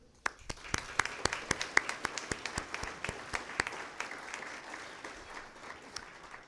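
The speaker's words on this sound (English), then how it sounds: "So let's give an applause to the World Logistics Center for this project." Audience applause at a city's state-of-the-city mayoral speech, steady clapping from a modest crowd in a hall, with sharp individual claps standing out and a gradual slight fade.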